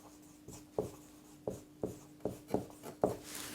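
Physics theory is being written out by hand, heard as a series of close, distinct pen-on-paper strokes and taps, about seven in quick irregular rhythm over a quiet background.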